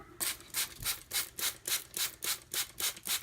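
An Aogami Super steel Karaku bunka blade being thinned on a fine 5K sharpening stone, steady rhythmic back-and-forth scraping strokes, about three per second, close and moderately soft.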